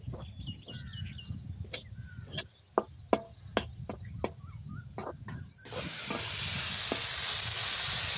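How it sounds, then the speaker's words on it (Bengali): Chana dal frying with onion and spices in a pan, a gentle sizzle under a series of sharp spoon-against-pan knocks, then a louder, steady hiss takes over in the last few seconds. "ডালটা এবার মশলার সাথে ভালো করে ভেজে নেব।"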